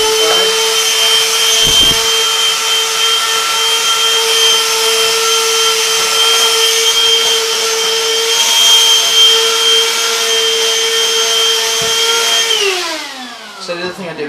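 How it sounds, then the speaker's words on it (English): A vacuum cleaner runs loud and steady at close range while cleaning the parts of a Neato robot vacuum, holding a constant whine before winding down near the end, with a few knocks against the parts. "I hoover around the edges of them"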